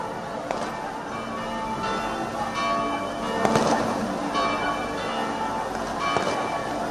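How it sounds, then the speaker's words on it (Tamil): Firecrackers set off by devotees at the Besant Nagar Velankanni church festival after the flag hoisting, several sharp cracks and bursts at irregular intervals over a continuous crowd and ambient din, with a bell-like ringing. "கொடியேற்றத்தை தொடர்ந்து அங்கு குழுமியிருக்கக்கூடிய பக்தர்கள் பட்டாசுகளை வெடித்து கொண்டாடுகின்றனர்."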